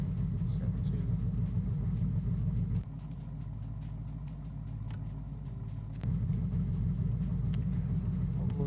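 A tuned car engine in the Forza Horizon 6 racing game holds a steady, loud low rumble throughout. The tone drops and settles briefly mid-way before the fuller drone returns.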